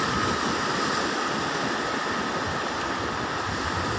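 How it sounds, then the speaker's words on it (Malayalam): A steady, loud roar of rough sea surf breaking on a beach, with continuous wash and rumble and no voices. "തിരമാലകൾ ആഞ്ഞടിക്കുന്നു"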